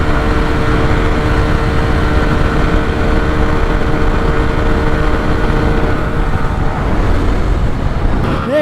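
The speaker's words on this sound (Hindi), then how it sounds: "उसके बाइक में भी लिमिटर आ रहा है" Two Hero Xtreme 125R motorcycles, 2025 and 2026 models, run flat out in a drag race, holding a constant buzzing drone at the rev limiter with wind and road roar, fading slightly near the end.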